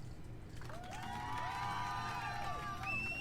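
A crowd cheers in a video game after a mission ends, rising shouts and whoops swelling into a sustained, moderately loud roar with overlapping excited voices.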